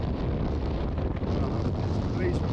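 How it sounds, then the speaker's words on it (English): Very strong 30-knot beam wind gusting off cliffs while under sail, roaring steadily and loudly into the microphone with constant buffeting across the whole stretch, water and boat noise blended underneath. "Very, very strong wind, 30 knots."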